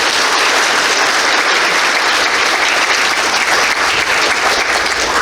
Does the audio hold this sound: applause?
yes